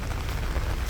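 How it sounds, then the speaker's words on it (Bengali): Heavy rain falling outdoors in Qatar on a flooded street, a steady dense hiss of drops striking water and pavement close by, continuous with no voices. "কাতারে আজকে প্রচুর বৃষ্টি হইতেছে"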